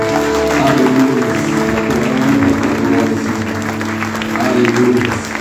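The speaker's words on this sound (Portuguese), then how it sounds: "Você pode aplaudir o Senhor." A church congregation applauds during worship, a steady dense wash of clapping with music or singing tones running underneath throughout.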